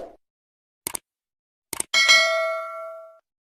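Two quick pairs of sharp metallic clicks precede a single bright notification bell ding that rings out and decays smoothly over about a second, loud and isolated in silence.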